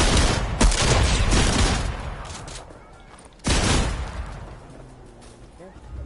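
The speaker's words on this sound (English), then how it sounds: "Oh, I'm getting shot, dude." Gunfire in a multiplayer shooter as the player takes hits, with dense bursts of shots opening and another loud volley near the middle, under excited voices of teammates talking.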